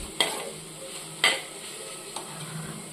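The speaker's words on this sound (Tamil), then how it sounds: "தக்காளி, வெங்காயம், குடமிளகா, உருளைக்கிழங்கு இதெல்லாம் நல்லா வதங்கி வந்துருச்சு" Tomatoes, onions, capsicum and potatoes sautéing in a pan with a steady sizzle, broken by three sharp scraping stirs of a spoon against the pan, close and clear with no voices.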